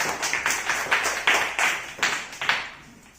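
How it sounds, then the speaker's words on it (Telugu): Children clap together in a classroom during a maths shapes activity. There are several bursts of group applause in an uneven rhythm, close and fairly loud. "క్లాప్స్ కొట్టండి."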